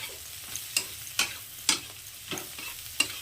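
Vegetables for egg chicken fried rice are stir-fried in a pan, a soft sizzle broken by several sharp scrapes and clacks of a spatula at irregular intervals, close and alone.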